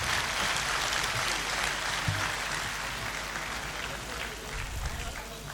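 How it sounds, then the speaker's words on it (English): Sustained applause filling a university convocation auditorium at the 40th ceremony, a dense steady clatter of many hands, fairly loud throughout and easing slightly toward the end. "So if you really want to clap,"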